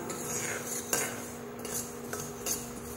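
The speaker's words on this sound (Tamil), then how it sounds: "அதனால் சிம்மில் வச்சு கொஞ்ச நேரம் நம்ம வறுத்துக்கலாம்" Ingredients dry roasting in a pan over a low flame, a spoon stirring with soft scrapes and an occasional faint clink against the metal, quiet and steady with no voices.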